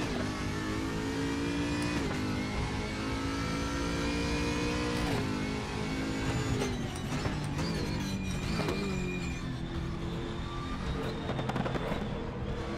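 V8 car engine revving hard in a driving game, a loud continuous roar rising and falling through gear changes with sharp crackles and pops toward the end, close and alone.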